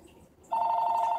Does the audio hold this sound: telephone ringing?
yes